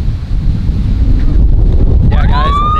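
Loud, steady wind roars across the microphone, a constant gusty rumble, with a faint high whine near the end.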